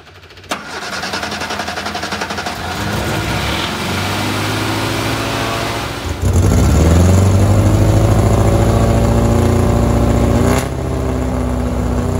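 A Mark II Sprite car cranks and catches on a cold start, then settles into a loud, close, steady idle that rises in speed partway through.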